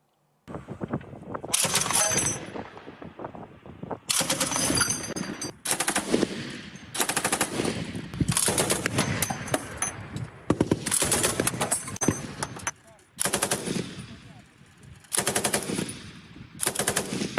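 Long bursts of machine gun fire from a border guard mobile air-defence fire group, loud and close, with rapid repeated volleys separated by short pauses.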